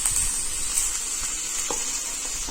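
Hilsa fish pieces frying lightly in a little hot oil, a continuous bright sizzling hiss close up and alone, with faint soft crackles underneath.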